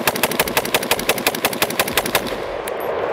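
An HK heavy rifle fires its last rounds in one loud, rapid burst of about fifteen evenly spaced close shots, then falls quiet.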